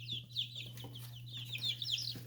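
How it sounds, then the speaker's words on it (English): A mixed flock of chickens, including barred rocks, with chicks sending out repeated high peeps and soft clucks, close and fairly quiet, over a steady low electrical hum. "We got a mixture of chickens here."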